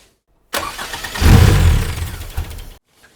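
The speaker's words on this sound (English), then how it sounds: "I want to get the engine running fully synchronized" A Toyota 2.7L 1AR-FE four-cylinder engine in an MR2 cranks and catches, swelling into a loud, close rev before settling, then cutting off abruptly after about two seconds.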